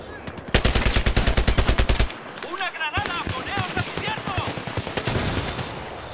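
Rapid automatic gunfire from the PC video game Battlefield 3 on the Noshahr Canals map, a loud fast burst of shots followed by scattered shots mixed with game effects and a player talking.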